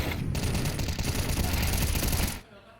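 Rapid gunfire from Counter-Strike 2 in a FURIA vs paiN BLAST Rivals Hong Kong match, a dense loud burst of shots running continuously before cutting off abruptly.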